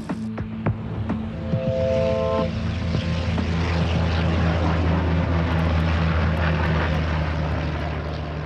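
An original WWII fighter plane, flown since 1943, roars loudly and steadily nearby, its propeller engine a deep droning rumble with a throbbing, buzzing tone that holds throughout.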